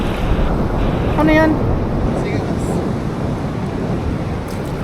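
Wind and ocean waves at sea on a fishing trip off Bolinao, a steady loud roar of wind buffeting the microphone over surging water, with a brief spoken question.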